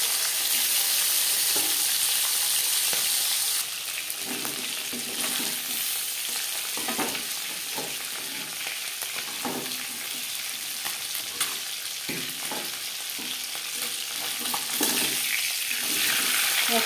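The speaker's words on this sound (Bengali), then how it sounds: "তেল আমি গরম করে নিয়েছি। এবার দিয়ে দেব মাছ।" Shol fish frying in hot refined oil, a steady dense sizzle and crackle lasting throughout, close and fairly loud, with occasional stirring or spatter bursts and no talk.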